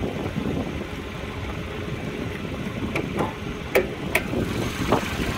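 A high-mileage, faulty Hyundai Avante MD engine runs roughly with a continuous low rumble, joined by a few sharp clicks and taps near the end, with no talk.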